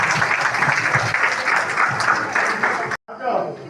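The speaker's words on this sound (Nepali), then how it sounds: "हामी ताली बजाइदिउँ" Wedding guests clap in a dense, close burst of applause that cuts off sharply near the end, followed briefly by more crowd noise.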